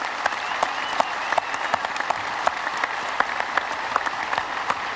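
Crowd at a religious liberty rally applauds, sustained dense clapping with sharper individual claps standing out across the whole stretch and no talk over it.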